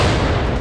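A single heavy boom of Russian artillery fire on Ukrainian positions at Avdiivka, loud and broad, lasting under a second.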